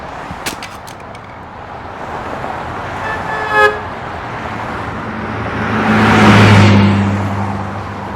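Roadway traffic with a car horn tooting in a few short bursts, engines passing and one vehicle swelling loudly close by before fading, with no talk.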